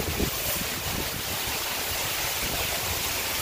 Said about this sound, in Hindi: और देखिए पीछे बारिश बहुत हो रही है